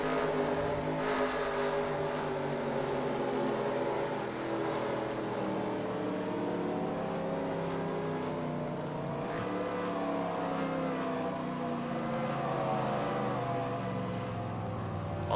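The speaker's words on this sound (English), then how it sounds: "you can hear the engine still droning, but the car starts decreasing in speed" A race car's engine drones steadily from onboard at Road America, a continuous loud hum whose pitch slowly sinks and dips as the car slows, heard close and with no talk.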